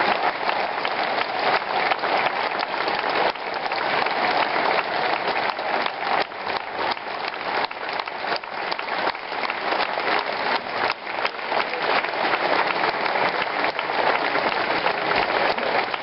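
Sustained applause from a concert audience in Novi Ligure, Italy, for the Carabinieri military band, a dense, steady wash of many hands clapping at even loudness throughout.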